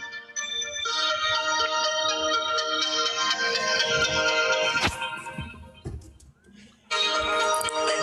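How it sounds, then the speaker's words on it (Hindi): A sustained electronic ringtone melody plays loudly for several seconds, breaks off with a few clatters, then resumes. "फोन खड़क गया, फोन खड़क गया"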